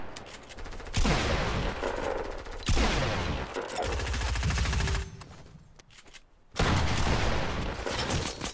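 Gunfire in a shooter video game, with loud, dense bursts of automatic fire in several sustained volleys, broken by a short lull before the shooting resumes.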